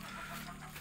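A Shamo hen roaming free gives a brief, close clucking call over a steady low background hum.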